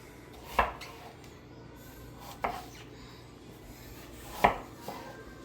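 Three sharp knife strikes on a cutting board while onions are chopped for a chicken dish, spaced a couple of seconds apart and close, with quiet room tone between.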